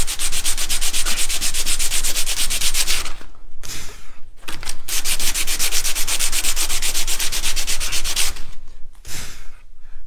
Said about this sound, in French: je les ponce à 60 et après, je les reponce à 400